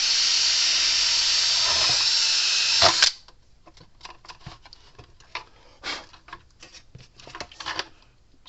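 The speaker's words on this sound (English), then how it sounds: "Drill a hole." A drill bores a hole during repair of a Gallagher M600 electric fence energizer, a loud steady whine for about three seconds that stops abruptly, followed by scattered clicks and handling noises.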